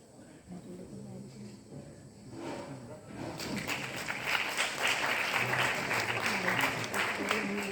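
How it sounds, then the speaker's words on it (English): At a 2023 medical conference at AIIMS Delhi, a voice speaks briefly before the audience bursts into applause. The clapping swells to a full, steady roar for the remaining seconds. "She really deserves a huge round of applause."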